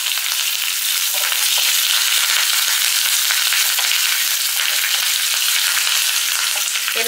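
Mustard seeds, fenugreek, asafoetida, curry leaves and dried chillies sizzle loudly in hot oil for idli sambar, a dense close crackle with light stirring that holds steady and uninterrupted, with no voices.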